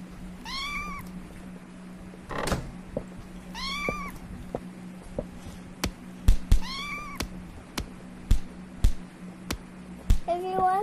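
Several cats meow repeatedly in Minecraft, high wavering calls recurring every couple of seconds, mixed with sharp clicks and taps from gameplay over a steady low hum.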